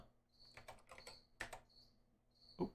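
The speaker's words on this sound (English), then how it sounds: "This keyboard is, I'm gonna tell you, terrible for typing on." Quiet, close keystrokes on a computer keyboard come in a few short bursts of clicks separated by pauses, ending in a heavier key press, over a faint steady electrical hum.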